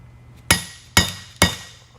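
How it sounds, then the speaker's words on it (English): A hammer strikes a manual impact screwdriver to loosen screws on an Eaton Carter ground fueling hydrant valve. Three sharp, evenly spaced metallic blows land close by, each ringing briefly, with no talk. "This is called a hammer impact."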